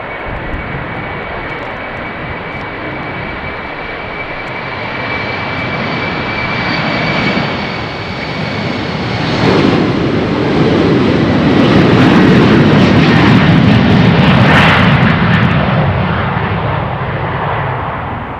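An airliner takes off from runway 36L at Amsterdam Schiphol in showery weather, its engine roar building steadily from a distant rumble to a loud, broad sustained thunder, with no talk.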